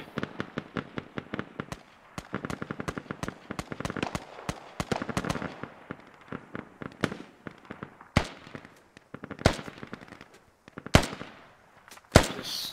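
Rapid, sharp gunshots from the military shooter Squad crack out in quick irregular bursts, then become sparser with louder isolated shots and quiet gaps between them.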